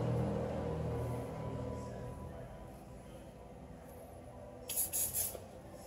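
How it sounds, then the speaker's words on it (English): Two or three short hissing bursts of silicone spray from a can near the end, close and bright, following a low steady rumble, while lubricating a car's rear brake caliper. "Little silicone spray."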